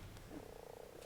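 A frog creature in the video game Ark croaks in a quick pulsing rattle, faint and brief, heard alone.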